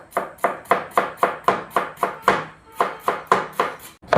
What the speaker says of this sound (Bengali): আমাদের বাঁধাকপি কাটা কমপ্লিট।